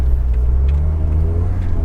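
A Volvo 740 drifting on snow gives off a steady, close engine drone with a deep rumbling low end that holds even and loud for the whole stretch, and no talk over it.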